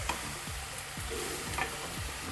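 Okra avial with turmeric being stirred in a hot pan, a low sizzle under rhythmic scraping strokes roughly every half second, close and even, with no voices.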